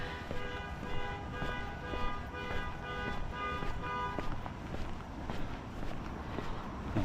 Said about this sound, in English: Oh, somebody's car alarm.